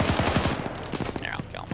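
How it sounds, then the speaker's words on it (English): Rapid bursts of gunfire rattle out in a video game battle as a tank fires into a town, a dense string of sharp cracks and thuds followed by a few more scattered shots. "Tank is now firing into the town indiscriminately."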